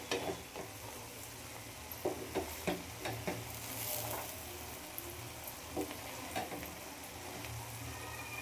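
A spatula stirs sprouted green gram palya with greens in a hot pan, giving repeated scraping strokes at an uneven rhythm over a soft continuous sizzle. The sound is close and moderately quiet, with no talk.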